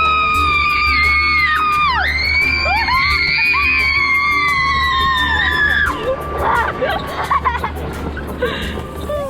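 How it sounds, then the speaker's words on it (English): Several people scream and whoop loudly together while riding golf carts through a tunnel formed by lined-up golf carts in Los Angeles, a sustained crowd of yells fading into scattered shouts and babble. "you're supposed to scream when you go through it"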